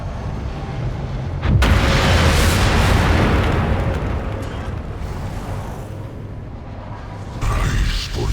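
A Daedric device is destroyed in Elder Scrolls Online with a sudden loud explosive boom that swells into a long roaring rumble and slowly fades, followed by a second sharp burst near the end.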